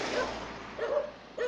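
Dogs barking outside a home on an urban street, a few short yaps and woofs at the start, middle and end, moderately distant.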